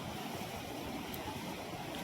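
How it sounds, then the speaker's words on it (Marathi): Fast dam water at Dhanegaon rushing out beneath a bridge, a steady loud broadband roar of turbulent flow holding constant throughout with no pauses. "हे बघा किती स्पीडला पाणी आहे"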